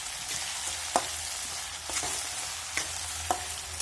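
Green chillies fry in hot oil with a steady, close sizzling hiss, punctuated by a few sharp clicks of a spoon against the pan.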